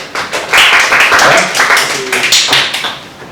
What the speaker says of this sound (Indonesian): Oke, tepuk tangan buat si Nilo.